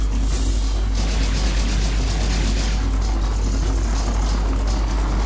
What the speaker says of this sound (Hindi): हेलीकॉप्टर की आवाज आ रही है पर है कहाँ हेलीकॉप्टर